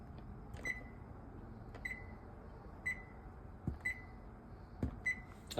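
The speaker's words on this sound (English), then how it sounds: "Let's put the timer on and see." A kitchen timer beeping while birria is cooked: five evenly spaced short electronic beeps, quiet and clear over low room noise, with soft clatter between them.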